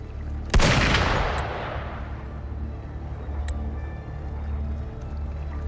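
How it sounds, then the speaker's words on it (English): A single sharp gunshot cracks in the Wuthering Waves video game, then a long reverberant decay fades over a low ambient rumble, with a couple of faint distant clicks afterward. "Gunfire! We've got intruders."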